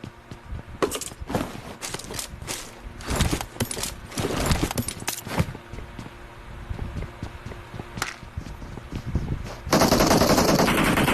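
Rapid bursts of automatic gunfire crackle in clusters with brief pauses, ending in a sustained loud noisy blast; no talking.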